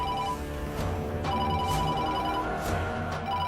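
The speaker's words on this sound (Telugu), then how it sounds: "ఫోన్ మోగుతుంది." A telephone rings indoors with repeated electronic ringtone bursts, steady and moderately loud, set in a Telugu television drama scene.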